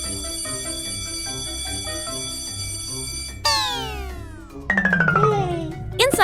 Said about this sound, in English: Outside, Daddy Pig presses the doorbell again.